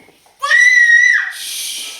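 A young child screams late at night at home, one piercing sustained shriek that breaks into a rougher, breathy cry before trailing off.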